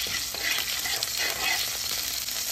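Cumin seeds sizzling in two tablespoons of hot ghee in a pan, a steady close crackling hiss with light stirring, no talking.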